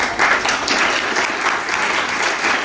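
An audience applauds children at a literary café event, a steady, dense burst of clapping that fills the whole moment at close range with no talk over it.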